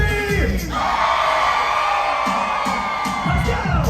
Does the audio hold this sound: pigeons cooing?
no